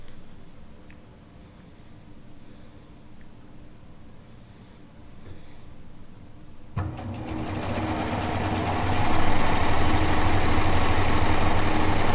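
Sewing machine stitching a quilt with a 1/4 inch seam, a quiet low hum for the first half before the motor runs up into a loud, steady, fast whirring drone that continues to the end.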